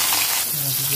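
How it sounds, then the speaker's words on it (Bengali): Rohu fish pieces frying in hot oil in a wok, a loud, bright, continuous sizzle heard close up for a moment, with a faint low hum beneath. "তেলটা ভালো করে গরম করে নিয়েছি, আর মাছগুলো দিয়ে দেবো।"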